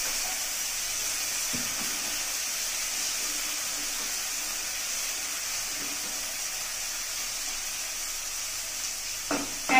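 Steady hiss of chopped capsicum and chillies frying in a pan for chilli paneer, a continuous soft sizzle with a few faint stirring clicks, no talking.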